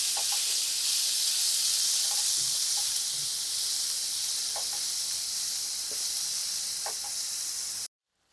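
Chopped tomatoes cooking among browned onions in a pan for a creamy onion sabji, a steady bright hissing sizzle with scattered soft pops and stirring clicks, cutting off abruptly at the end.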